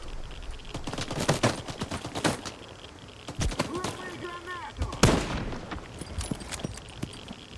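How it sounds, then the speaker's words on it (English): Gunfire in the video game STALKER 2, scattered sharp shots and short bursts over a noisy battle backdrop, moderately loud, with a few chirping tonal effects partway through. "the bullets just don't stop"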